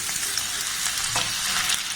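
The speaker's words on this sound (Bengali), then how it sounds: "এবার আমটাকে আমি এর মধ্যে দিয়ে দেব।" Raw mango for a spicy mango pickle fries with spices and five-spice seeds in a pan, giving a steady, dense sizzle with light stirring scrapes throughout.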